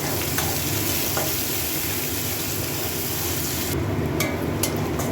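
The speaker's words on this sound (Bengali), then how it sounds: "পেঁয়াজটাও ভাজা হয়ে এসছে" Chopped onion frying and being stirred in a pan as part of a Bengali taro-flower dish, a steady close sizzle with scraping stir strokes throughout, the hiss briefly dipping near the end.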